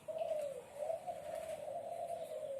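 Zebra doves coo in a long, smooth, continuous call, steady and fairly close, with a faint background hiss.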